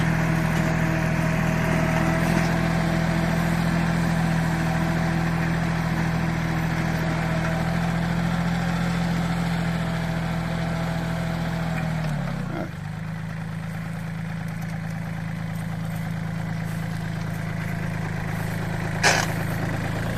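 A tractor engine runs at a steady low idle throughout, its rumble dipping slightly partway through; no one speaks.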